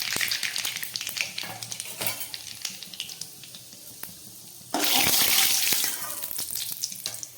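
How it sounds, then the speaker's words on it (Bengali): Black cumin and fennel seeds hit hot white oil, giving a close crackling sizzle with scraping stirs, then a sudden louder burst of hissing spatter before it settles again. "তেলটা গরম হয়ে গেছে, আমি একটু কালো জিরে আর সামান্য মৌরি ফোড়ন দিয়ে দিলাম।"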